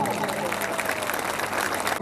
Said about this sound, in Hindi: इसलिए हर माँ के लिए और बहन के लिए एक बार ताली बजाओ।